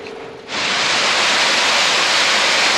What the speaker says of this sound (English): that's the sound of the rain slash sleet hitting against my garage doors right now